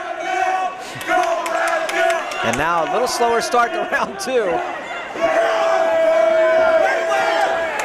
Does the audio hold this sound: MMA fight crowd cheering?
yes